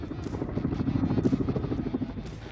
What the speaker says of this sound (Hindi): There is a helicopter.